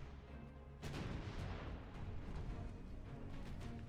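Naval gunfire from 10-inch guns in the warship game Ultimate Admiral Dreadnoughts, a heavy boom kicking in over a dense, constant rumble of battle noise that sustains loudly throughout.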